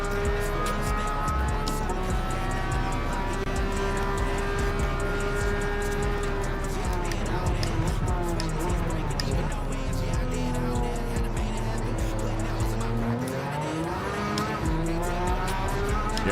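Race cars in Gran Turismo 7, including an NSX and a Supra, drone steadily with engine notes rising and falling through gear changes and occasional tire squeal, continuous and fairly loud.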